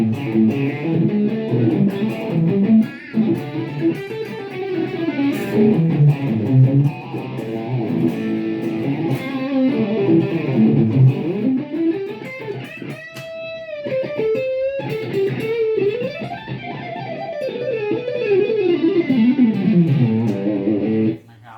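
A sustained lead from a 2005 Fender USA electric guitar sings through a BOSS GT-8 effects processor, with bending, sliding notes and long gliding pitch swoops, loud and alone.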